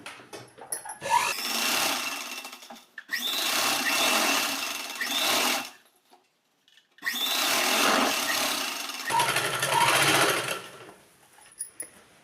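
A sewing machine stitches the seat seam of ladies' trousers in loud, close, steady runs of rapid needle clatter, with about four long bursts separated by short silent pauses.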